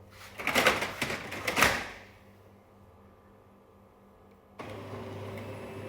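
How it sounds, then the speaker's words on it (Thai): A printer printing order and shipping sheets during packing work, giving about two seconds of loud, close mechanical whirring and clacking, then a quiet pause before a steady feed hum resumes. "อ้าวเครื่องพิมพ์เป็นไรเนี่ย"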